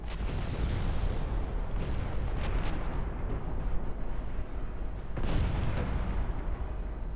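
Secondary guns of a warship firing in the naval game Ultimate Admiral Dreadnoughts, a continuous roar of rumbling gunfire with a fresh booming burst near the end, loud and dense.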